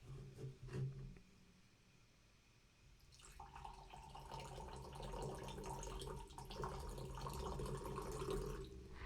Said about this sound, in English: Let's give this a pour.